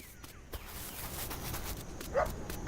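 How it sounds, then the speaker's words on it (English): Dogs in the video game Dinkum give a few faint, short barks and yips over a soft hiss of background game ambience. "I have an army of dogs."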